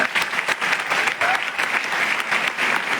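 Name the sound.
seminar audience applause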